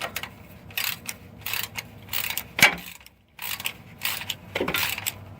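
Ratchet wrench clicking in short bursts as it tightens the transfer case drain plug on a 1997 Ford F250, close and fairly faint, with a sharp metallic knock partway through.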